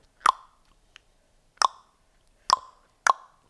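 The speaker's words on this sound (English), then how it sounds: "we'll do the popping sound" Four sharp hollow pops made by snapping the tongue off the roof of the mouth, spaced irregularly, close and clear against near silence.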